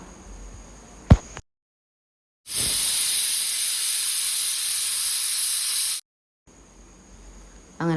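A pressure cooker cooking corn on the cob lets out a loud, steady hiss of escaping steam for about three seconds, after a short quiet gap, with faint household sounds before and after.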